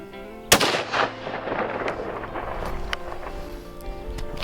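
A single loud, sharp shotgun blast fired at a young wild boar under an oak tree on a California hunt, followed by a rolling echo and outdoor wind and rustling noise.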